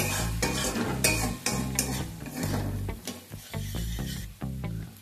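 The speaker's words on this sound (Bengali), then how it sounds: "ভালোভাবে এবার আমাদেরকে কষিয়ে নিতে হবে এটাকে" Spices sautéed with banana stem and prawns in a hot pan, loud, close, rhythmic stirring and scraping over a continuous sizzle, with no talking.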